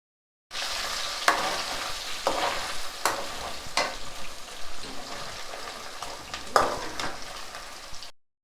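Chicken pieces frying in half a kilo of oil for a chicken pickle, a steady close sizzle with occasional sharp pops and clatters of stirring across about eight seconds.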